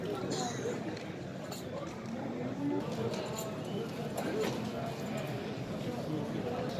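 Horses move about at a livestock sale in Nookat, among them an ulak racing horse and young foals, with soft hoof clatter mixed into a busy crowd murmur and steady outdoor background noise.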